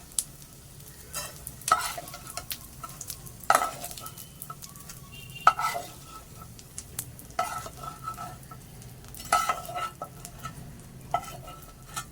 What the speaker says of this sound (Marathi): कमी गॅस करून आता भाजायचं आपल्याला